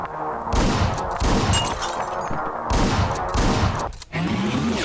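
Rapid, loud gunfire from a weapon in the video game Hotline Miami 2, dense bursts of shots running almost continuously with a brief break near the end, no talking over it.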